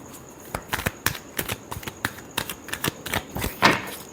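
Tarot cards being shuffled by hand, a quick irregular run of crisp riffling flicks and soft slaps, close and fairly loud, with no talking.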